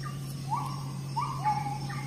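A bird of paradise from Papua gives short, rising and falling whistled calls, three or four separate notes spaced across a couple of seconds over a steady low background hum.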